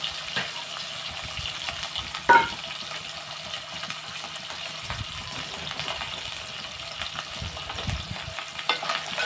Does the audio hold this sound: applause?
no